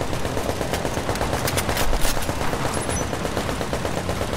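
A deployed turret in a video game rattles off sustained rapid automatic gunfire, a dense continuous stream of shots loud and close with slight swells in intensity and no speech.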